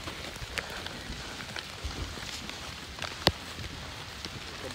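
Light rain falls at night beside a river, with a steady soft patter and a few sharper drips. It stays faint and even throughout, with no voices.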